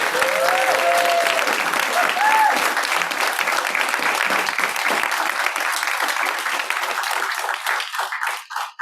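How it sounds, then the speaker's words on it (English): An audience applauds awardees at an awards ceremony with dense, steady clapping that fills the room for several seconds before tapering off and stopping at the end. "So join me in giving everyone a round of applause, all of our awardees."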